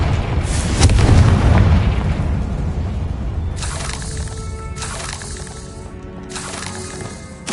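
A Confringo fire spell goes off in the Hogwarts Legacy video game, exploding among spiders in a catacomb. A loud, deep boom swells and rolls for several seconds, and sharper bursts crackle later in the clip.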